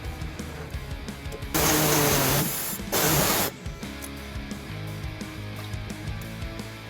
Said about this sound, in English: We're going to use an air saw to cut that off.